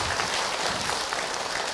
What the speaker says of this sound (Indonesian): Tepuk tangan buat Ibu Rizky.